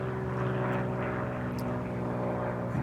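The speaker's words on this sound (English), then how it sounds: "Some noisy plane going over." A noisy propeller plane passes overhead, its steady droning engine with layered harmonic hum sustained and fairly loud throughout, no voices over it.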